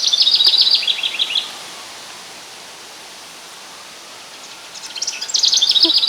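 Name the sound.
bird singing in garden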